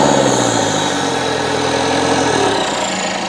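Citroen Berlingo engine held at raised revs, a steady close drone with a constant mechanical hum and vibration that stays even throughout, no voices.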